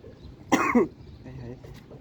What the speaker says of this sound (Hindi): खांसी क्यों हो रही है?